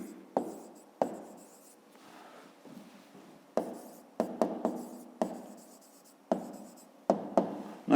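A pen scratches across paper in short, separate strokes during a fifth-grade maths exercise, with sharp onsets and quick fades, close and fairly quiet, with brief pauses between the marks.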